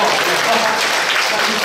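A church congregation at an anniversary thanksgiving service applauds in a dense, steady wash of clapping that fills the whole short stretch.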